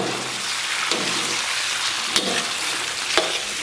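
Pork intestines stir-fry with chili in a wok, a loud continuous sizzle with a few sharp clanks of the spatula against the metal, no voices.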